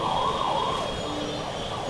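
An ambulance siren wails steadily amid city traffic noise in Ludhiana, India, moderately loud and continuous over the short stretch.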